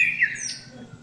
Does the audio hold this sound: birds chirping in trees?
yes